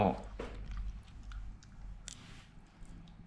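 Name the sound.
chewing eggs with chili and oregano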